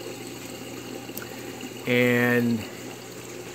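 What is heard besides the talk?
bubbling water in a hydroponics system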